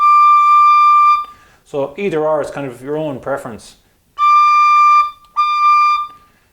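Irish tin whistle sounding a high D with a clear, steady tone, played in two bursts: one long held note, then a short gap of talking, then two more sustained notes close up and loud.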